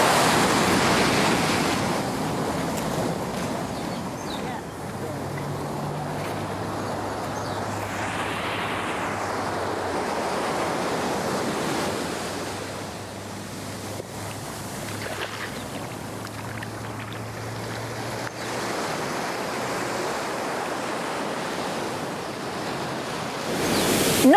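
Surf washes continuously onto a Caribbean beach in St Lucia, a broad, steady rush of waves with gentle swells, a low hum in the background and some wind buffeting.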